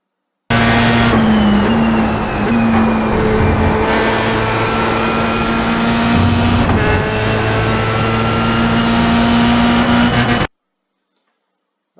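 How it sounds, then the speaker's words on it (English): Simulated Dallara F3 race car lapping Silverstone South in iRacing, its engine droning loud and steady with clear pitch climbs on upshifts and dips into corners, running alone without talk until it cuts off abruptly. "that is a lap of Silverstone South Circuit in the Dallara F3 car"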